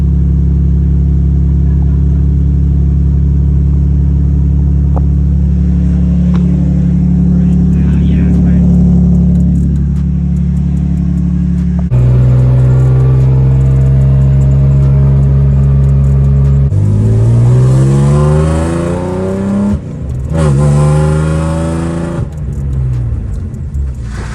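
A BMW E46 325 that has sat for two weeks cranks and fires up, then idles loudly with a deep, steady drone before being revved in several rising and falling sweeps, close up, while someone talks briefly at the start.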